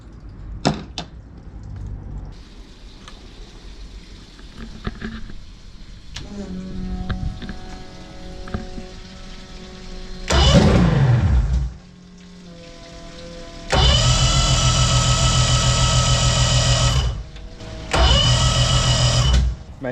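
A Mercury 3-litre 225HP carbureted outboard boat engine idles at 2000 RPM with a steady, tonal hum, broken by several loud, harsh broadband surges that rise and drop off.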